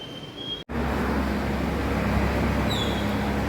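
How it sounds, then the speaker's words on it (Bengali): A heavy water tanker truck engine rumbles steadily just outside after a brief cut, a loud, continuous low drone with faint higher whines. "জলের ট্যাঙ্ক এসছে ওই জন্য আওয়াজ হচ্ছে বাইরে"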